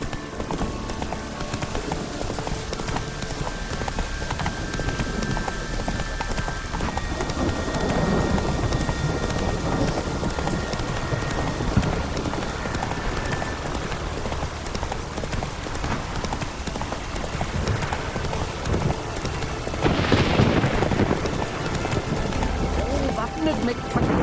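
A horse in The Witcher 3 gallops with rhythmic clip-clopping hooves under steady rain and rolling thunder, with voices speaking over it throughout.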